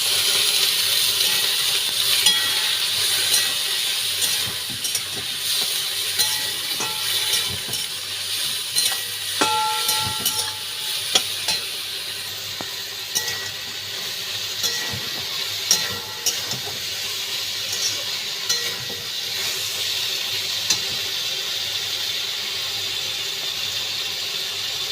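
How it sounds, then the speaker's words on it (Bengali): A spiced mixture for bhindi kachori sizzles and hisses steadily in a pan after water is added, with occasional clinks of stirring. "একটু জল দিয়ে এটাকে কষিয়ে নেব"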